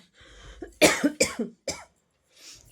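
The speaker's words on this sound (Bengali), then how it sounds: "তার মধ্যে কাশিটা আবার শুরু হয়েছে আমার" A woman with a returning cough lets out a quick run of three or four harsh, close coughs after a short breathy lead-in, then a faint breath near the end.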